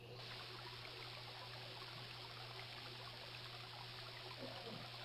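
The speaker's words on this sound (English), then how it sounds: "If you wish to swim, simply walk into the water, Sir Graham" Lake water in the King's Quest: Quest for the Crown video game, a steady trickling, streaming wash that runs unbroken and fairly loud throughout with a constant low hum beneath it.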